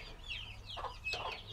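Chickens of the Araucana breed cluck softly in a backyard coop, a few short calls rising and falling close by over a low steady hum.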